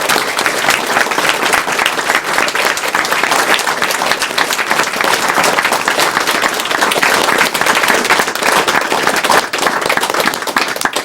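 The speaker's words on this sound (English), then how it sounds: "So, big round of applause for anyone who drove." A crowd at the Awesome Games Done Quick 2013 speedrun marathon breaks into loud, sustained applause, dense clapping holding steady for the whole stretch with no pause.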